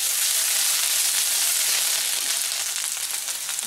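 Onion and garlic sizzle steadily in hot mustard oil for a Bengali bain fish curry, a dense, even frying hiss close up with no talking.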